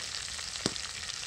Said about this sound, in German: Und das lassen wir das jetzt wieder richtig scharf anbraten